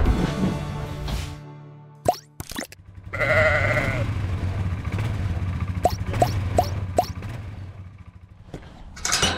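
Sheep, among them lambs being handled on a farm, let out a loud, close bleat, set between sharp clicks and plops and low rumbling farm noise.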